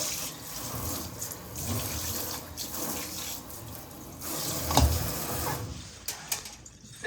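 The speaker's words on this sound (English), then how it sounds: "so it's okay to turn on the water." Water running from a kitchen sink faucet onto a freshly coated, cured basin, a steady hissing splash that swells and shifts as the stream hits the surface, then thins out toward the end.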